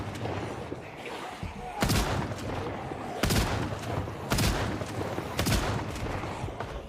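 A Mossberg shotgun fires four heavy, booming blasts at a steady pace, each with a broad echoing tail, over steady game background noise.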